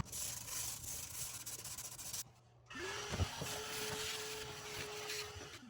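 A green repair coat on a cracked fiberglass acrylic bathtub being sanded with 80 grit sandpaper: steady, close abrasive rubbing that pauses briefly midway, then resumes alongside a faint whining tone.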